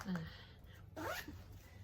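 A zipper is pulled along a knitting project bag in two quick runs, the second brighter and rising, close by and fairly quiet.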